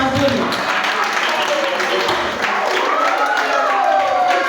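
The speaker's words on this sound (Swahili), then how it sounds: "Piga makofi mazuri jamani." An audience at a birthday celebration claps hands in a dense, steady burst of applause, mixed with voices talking and calling out over it.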